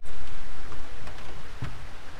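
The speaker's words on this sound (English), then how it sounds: "It is raining" Steady rain falls outdoors in the Costa Rican mountains near Cartago, a dense, even hiss of drops with a few soft taps, close and alone.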